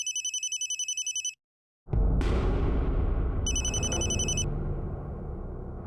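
A telephone rings indoors in a repeating electronic pattern of rapid trilling bursts, cut off abruptly, then a loud sustained crash-like rush of sound follows as the ringing returns briefly over it.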